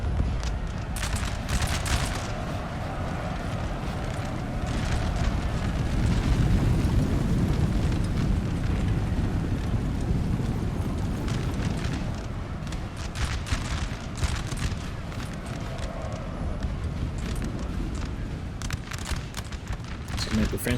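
Artillery fire and explosions in a Napoleon: Total War battle between France and Austria, a continuous dense rumble of booms and scattered sharp bursts mixed with battlefield noise.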